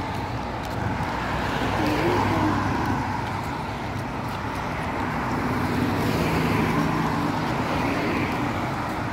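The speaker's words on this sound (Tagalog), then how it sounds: "May sasakyan." Road traffic on a street in Muscat, Oman, with a car passing along the road. Engine and tyre noise forms a steady, moderately loud wash with no clear distinct peaks, heard from a walking spot beside the road.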